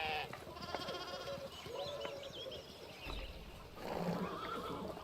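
A horse neighs in the video game Pentiment, a short whinny among other farm animal bleats from goats or sheep, with a few soft game sounds around it.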